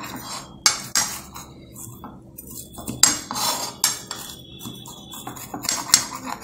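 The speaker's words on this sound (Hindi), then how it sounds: "ये पिज़्ज़ा कटर से इसको अब हम कट करेंगे।" A pizza cutter rolls across a crisp paratha on a plate, making several sharp metallic clinks and scraping crunches in irregular bursts.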